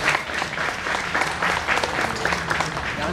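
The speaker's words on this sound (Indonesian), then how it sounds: "Beri aplaus kepada kedua tim." An audience claps for both teams at the close of a debate final, a dense, continuous burst of applause throughout with faint voices underneath.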